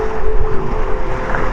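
Waves on open water in Sweden, a dense low rolling wash mixed with wind buffeting, loud and close, with a faint steady tonal hum underneath and no voices.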